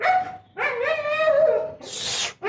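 A dog gives a short whining bark followed by a longer drawn-out yelping howl and a breathy huff, loud and close, with no talking.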